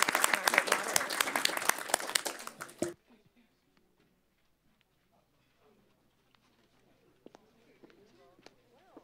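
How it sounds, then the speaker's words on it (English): Dense applause from a conference audience for a panel on the U.S., China and APEC, loud for nearly three seconds, then cutting off to a quiet room with faint shuffling and soft scattered sounds. "please join me in giving a big hand of applause to our great panelists this morning"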